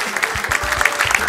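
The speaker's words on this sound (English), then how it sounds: "Give us a round of applause." A studio audience applauds on a Ghanaian TV game show. Dense, loud clapping runs through a brief moment, with low thumping beats pulsing underneath.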